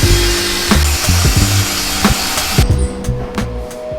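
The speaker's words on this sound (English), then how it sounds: "we'll again use the track saw, rip this miter cut all the way through, do it on all the pieces" A track saw rips a 45-degree miter cut through white oak, a loud close whine with its pitch shifting under load, broken by knocks and clunks before the blade spins down.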